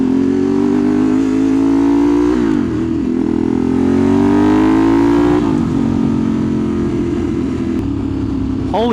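A 2015 Ducati 848 EVO roars loudly and continuously while being ridden, its engine pitch climbing in repeated rising sweeps as it revs up through gears, with steady wind noise throughout.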